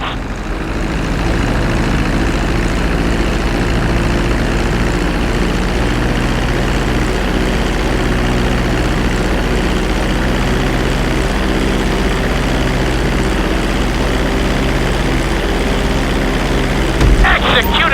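A propeller airplane rolls along a runway after landing in GTA 5 flight school, a steady loud engine drone with a low rumble holding evenly throughout, plus a brief bump near the end.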